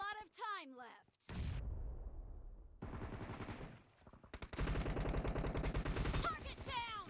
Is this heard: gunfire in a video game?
yes